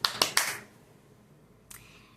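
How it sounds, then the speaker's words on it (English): Hands clapping, as a wide-awake Grumpy Toad claps at bedtime: three quick sharp claps close together, then a pause of quiet before one more single clap. "First, he hears some clapping."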